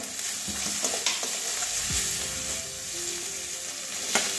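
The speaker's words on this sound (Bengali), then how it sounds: "মশলা ভালো করে কষিয়ে নেব। হলুদ দিয়ে দিচ্ছি 1 চামচ মতো।" Spices with turmeric fry in oil in a pan for an egg and cauliflower curry, giving a steady close sizzle with scraping stirs and light knocks of the spoon. No one talks.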